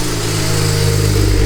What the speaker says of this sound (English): It's time to start the car. The downpipes are fully installed.